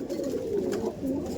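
Pigeons in a loft coo steadily, a close, continuous low burbling with no talk over it.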